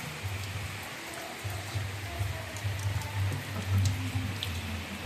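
Rain falls steadily in a village setting, a soft continuous hiss of drops with a faint low rumble underneath, fairly quiet and even throughout with no talking.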